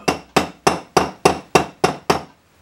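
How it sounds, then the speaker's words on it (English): Eight sharp metallic hammer strikes on a brass tube over a steel block, in a steady rhythm, each ringing briefly before the next blow, close and loud with no talking. "just hammer it onto a steel block"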